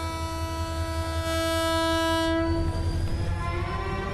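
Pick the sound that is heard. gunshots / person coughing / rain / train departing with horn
train departing with horn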